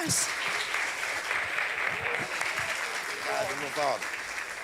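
A church congregation claps steadily in praise throughout, a dense wash of applause with a voice speaking over it.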